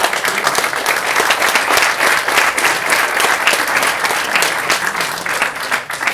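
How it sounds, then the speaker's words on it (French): Audience applause for a presenter at a talk on integration, a dense and loud wash of many hands clapping that holds steady for several seconds and eases slightly near the end. "Je pense qu'on peut l'applaudir"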